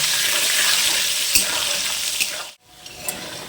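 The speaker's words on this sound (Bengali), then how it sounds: "তেল গরম হয়ে গিয়েছে, এবার আমি আলুগুলো ভেজে নেব।" Potatoes fry in hot oil with salt and turmeric, a bright, dense sizzle up close that cuts out briefly near the end and resumes more softly.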